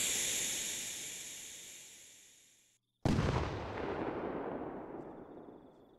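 A firework rocket in Feuerwerk Simulator hisses and roars as it rises and slowly fades. After a moment of silence it bursts with a loud bang, followed by a long crackling, fizzing tail.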